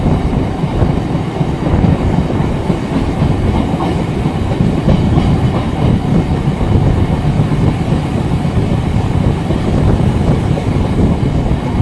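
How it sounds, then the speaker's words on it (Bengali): A local train pulls out of Padmapukur station with a loud, continuous rolling rumble and the rattle of wheels and carriages, heard up close from on board. "আমাদের ট্রেন এখন ছাড়ছে পদ্মপুকুর স্টেশন দিয়ে"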